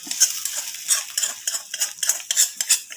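A spatula stirs fenugreek, onion, ginger, garlic and green chilli frying in oil in a pan for shark curry, giving a quick series of close metallic scraping strokes with a faint sizzle beneath and no talking.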